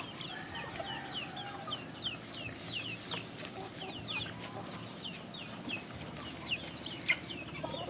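Chickens cluck softly at a distance in a farmyard where ducks are also kept, with scattered short calls and a faint steady background hum.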